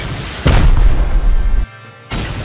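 A rocket blasting a gate in Rust, one loud deep explosion with a long rumbling roar that cuts off abruptly before another heavy burst starts, no talk over it.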